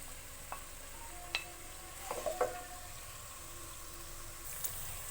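Onions sautéing in oil in a pan, a soft steady sizzle with a few faint stirring clinks, quiet and close with no talk.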